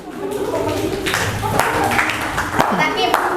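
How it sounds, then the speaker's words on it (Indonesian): Clapping in a classroom for a student group after their presentation, several hands striking in a loose burst while a teacher keeps talking over it. "Tepuk tangan untuk kelompok 2 ya."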